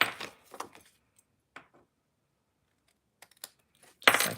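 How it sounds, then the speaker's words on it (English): Snips trimming excess cardstock from a handmade greeting card, giving a few sharp, close clicks and crisp cuts separated by brief quiet gaps. "grab my snips, cut off this excess"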